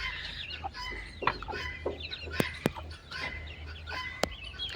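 A hen and her chicks make close, repeated clucking with thin high cheeps and a few sharp peeps, all at a steady low level.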